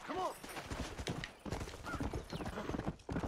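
Rhythmic clip-clop of horse hooves at a quick pace in Red Dead Redemption, with a horse's whinny at the start and faint chatter underneath.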